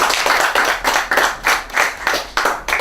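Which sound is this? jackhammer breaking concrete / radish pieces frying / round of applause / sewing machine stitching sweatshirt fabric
round of applause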